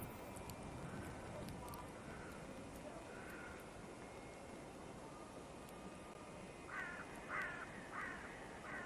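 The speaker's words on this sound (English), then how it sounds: "that crow always gets to me" A crow caws repeatedly in a short series near the end, moderately distant over a steady noisy background, with earlier fainter calls.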